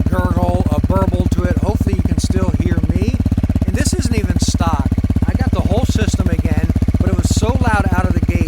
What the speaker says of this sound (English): this exhaust, as you can hear, is incredibly loud. It's got a gurgle, a burble to it.